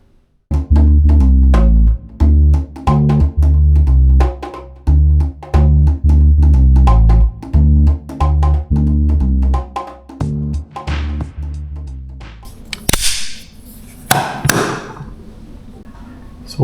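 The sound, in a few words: grinding the sides of moulded resin pistol grips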